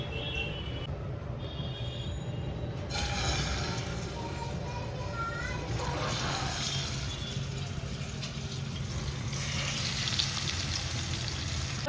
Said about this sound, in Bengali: উচ্ছে আর আলু ভাজাটা করতে হবে